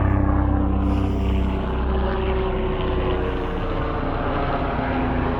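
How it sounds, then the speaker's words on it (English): A hospital helicopter flies overhead, its engine and rotor making a steady, loud, low droning roar that holds evenly throughout without fading. "It's the hospital's helicopter. It's going right to it."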